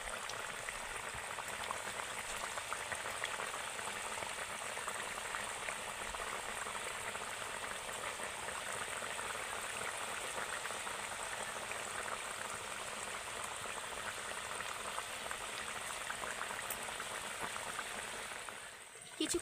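Cabbage pakoras deep-frying in hot oil give a steady, dense bubbling sizzle that holds at an even level from start to finish, close and continuous, with no voices over it.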